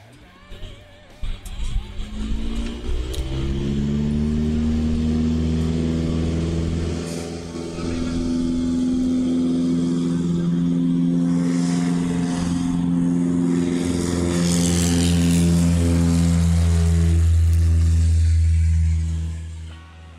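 STOL light aircraft at a fly-in competition taking off, the propeller engine roaring up to a loud sustained drone that climbs in pitch and stays strong, with faint talk in the background.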